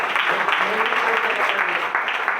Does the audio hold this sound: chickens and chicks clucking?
no